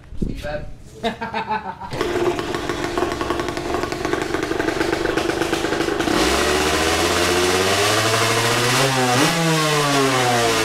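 A motorcycle engine with a flat-track setup idles roughly, then revs up repeatedly with rising, throaty pitch sweeps, loud and close.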